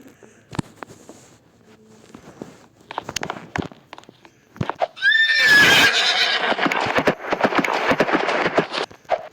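A horse in the Roblox game gives a loud, shrill neigh in the middle, preceded by scattered clip-clop hoof taps and followed by continued busy hoofbeats.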